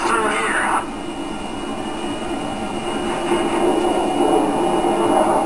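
Jet engine roar from an aircraft in Ace Combat 5, a steady loud whooshing drone that holds throughout with faint tonal whines on top.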